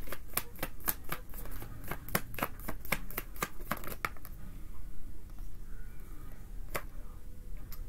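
Tarot cards are shuffled in a rapid, crisp run of riffling snaps for about four seconds, close up, then a few sparse, quieter card taps and slides.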